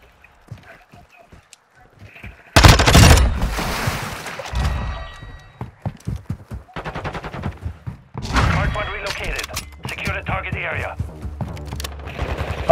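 Gunfire in Modern Warfare 2, sharp loud shots and short bursts breaking in after a quiet start, interleaved with players talking.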